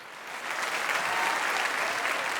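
Audience applause at the IIFA 2019 awards ceremony, a dense wash of clapping that swells quickly and holds steady and loud throughout.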